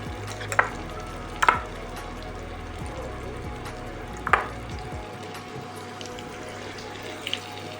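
Chicken pieces go one at a time into hot oil, a steady frying hiss with a few sharp spatters and clinks of a spoon, no talking.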